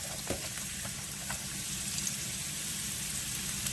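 Chopped onion hitting a hot pan for a chicken and shrimp stir fry, giving a steady, close hiss of frying that holds evenly throughout with small crackles and pops.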